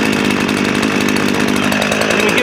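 A chainsaw on the ground runs loud and close right after being started, its engine holding a steady buzzing drone with a rapid throbbing pulse throughout.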